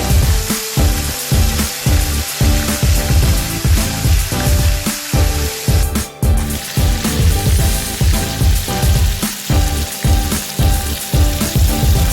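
Steady, loud sizzling of chicken frying in hot oil in a pan, with crackling pops and some clattering throughout, no voices.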